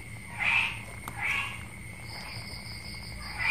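Paddy frogs croak on a rainy night in the Mekong Delta countryside, a few loud rasping calls rising and falling over a steady chorus of insects and distant frogs, with no one talking.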